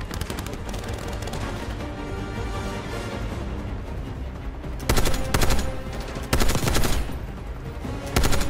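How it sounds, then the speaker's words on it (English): Automatic and machine-gun fire in Call of Duty: Black Ops 6 clatters steadily under a dense game soundscape, swelling into several loud, close bursts toward the end. "don't be random folks shooting at me"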